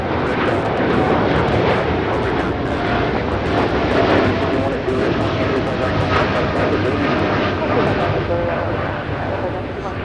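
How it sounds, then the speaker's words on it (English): An American Airlines Boeing 787-9 Dreamliner takes off from Los Angeles LAX bound for Chicago, its loud, broad jet roar filling the scene continuously while people talk over it. "3249 taking off to Chicago on the 787-9 Dreamliner"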